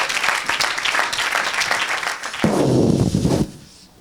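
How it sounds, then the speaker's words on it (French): A church congregation at an evangelist's worship service applauding, with dense, lively clapping that swells briefly, then fades out. "You can put your hands together for the Lord."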